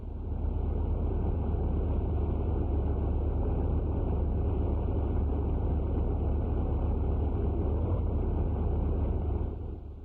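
Bomber aircraft engine running at full rated power on a factory test stand, a steady, loud, continuous roar with a deep low rumble that holds unchanged before easing off at the very end.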